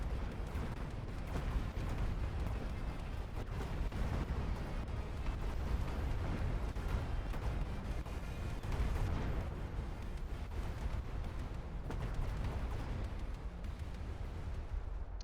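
In the Mechabellum strategy game, Mustang units fire at incoming missiles in a dense, unbroken barrage of gunfire and explosions that stays loud for about fifteen seconds, with no talking.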